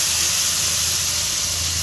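Masala hitting hot oil in a pan while cooking paneer biryani, a steady loud close sizzle that hisses continuously without a break.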